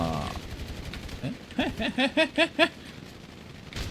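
A short burst of rapid video game gunfire in a team deathmatch, five or six quick sharp shots in even rhythm, sits in the middle of an otherwise quiet, slightly noisy background.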